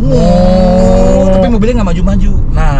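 A voice imitates the cow-like moaning drone of a Toyota Raize's CVT transmission under acceleration, a loud, sustained hum for over a second, before he carries on talking.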